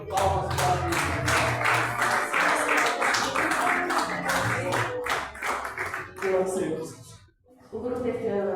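A church congregation clapping during worship, rhythmic hand claps in time with singing voices and music, fairly loud and close, breaking off briefly near the end before starting again.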